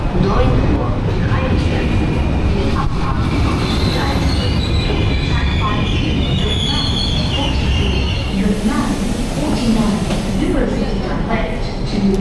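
A train rolls into a station in Belgium with loud rumbling and long metallic wheel squeals, steady throughout, while people talk nearby on the platform.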